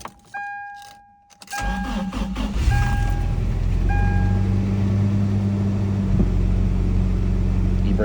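A 2004 Toyota Tacoma with a five-speed manual fires up on a cold, snowy morning: key chimes and a jingle of keys come first, then the starter cranks and the engine catches into a steady, loud, close idle that runs on unbroken.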